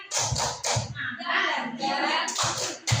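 Group of adults performing a rhythmic tepuk semangat spirit clap, bursts of patterned clapping alternating with chanted vocal syllables.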